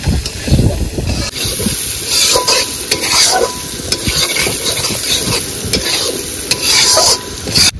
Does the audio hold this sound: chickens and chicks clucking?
no